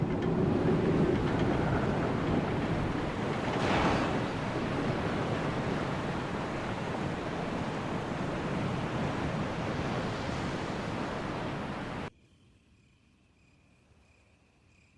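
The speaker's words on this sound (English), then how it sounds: "Hear the sound of a waterfall in the distance." A steady, broad rushing roar of a distant waterfall in the Resident Evil remake, constant throughout, then abruptly cutting to near silence near the end.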